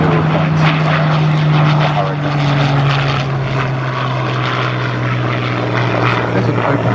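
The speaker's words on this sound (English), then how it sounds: "The Spitfire." A Spitfire propeller fighter flying past at a military airshow, its engine a loud continuous droning roar with a steady deep tone throughout, while people talk nearby.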